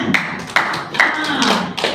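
A church congregation at a Christmas night service claps in short bursts of sharp, close slaps, several irregular clusters over two seconds, while a voice carries on underneath.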